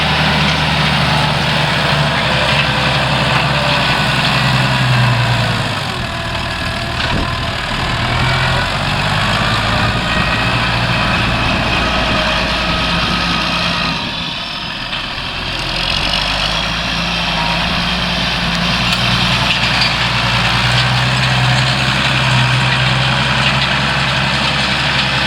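An old tractor engine running steadily nearby in Norfolk farmland, a loud continuous low rumble that dips briefly in level partway through before settling back to a constant drone.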